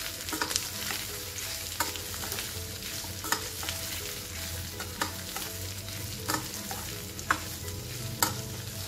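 Potato upvas bhaji with peanut powder and salt being stirred in a hot ghee tempering, the spoon scraping the pan in steady strokes over a constant frying sizzle, close and without talk.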